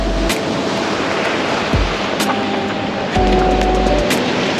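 Ocean waves crashing against the shore in Thailand, a constant loud roaring surf with wind buffeting the microphone and a few sharper splashes.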